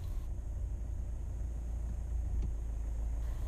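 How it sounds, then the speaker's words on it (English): A manual car rolls along in first gear with its engine idling, a steady low rumble of engine and road noise heard from inside the cabin with no talking. "this time we roll along in first gear with the engine at idle."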